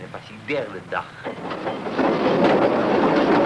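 A tram rolls along its rails, a steady broadband rumble and rattle that builds in after a short stretch of talking and then holds loud and continuous to the end.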